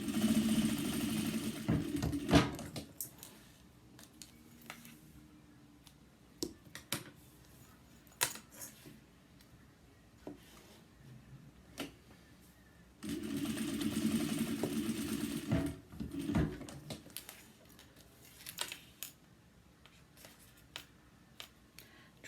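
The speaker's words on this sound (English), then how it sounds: "baste down the sides of your pockets to keep them in place" A sewing machine bastes down the sides of pockets on a zippered cross-body bag, with two bursts of steady stitching near the start and middle between quieter clicks and handling noises.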